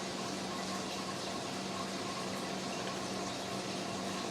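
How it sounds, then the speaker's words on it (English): Hot water pours steadily over apples and cranberries, a continuous, even rushing splash that holds at the same level throughout. "And my hot water goes in here. And it just pours over."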